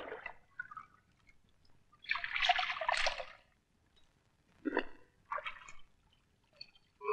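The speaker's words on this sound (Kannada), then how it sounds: "ತಿರುಗು, ನೀರು ಒಯ್ತೀನಿ" Bath water is poured in short bursts, splashing and trickling in separate gushes with quiet pauses between them.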